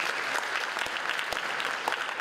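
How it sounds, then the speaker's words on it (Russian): Guests at a ceremonial academic council marking a medical university anniversary give continuous, dense applause that stays even and moderately loud throughout, with no speech over it. "Давайте поаплодируем."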